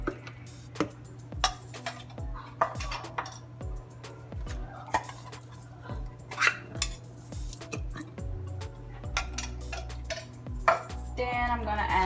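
Cream of mushroom soup is scraped from cans into a bowl with a utensil, producing irregular close clinks and taps over a steady low hum.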